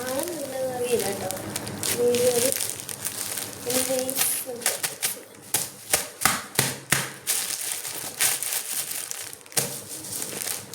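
Crinkling and crushing of plastic packaging while a parcel holding a king-size bedsheet is unboxed, irregular rustling bursts and sharp crackles close by, with someone talking at the start.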